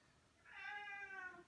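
One drawn-out meow from a house cat in a home kitchen during cake baking, fairly faint and heard on its own against quiet background, rising and then trailing off.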